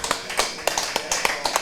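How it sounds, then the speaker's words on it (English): Audience applause in a pub with sharp, uneven claps, moderately loud and close, lasting under two seconds without talk. "big round of applause for that trooper"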